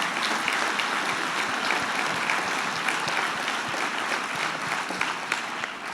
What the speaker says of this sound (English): Please give them a round of applause for their local leadership.